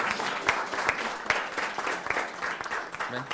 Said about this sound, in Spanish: un aplauso, ya no para la mesa, para todos.